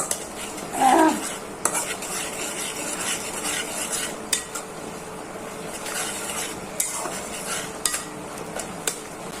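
Spice paste with salt being stirred and fried in a pan for a drumstick and red lentil dal, with intermittent utensil clinks and scrapes against the pan over a soft, steady sizzle, close by and with no talking.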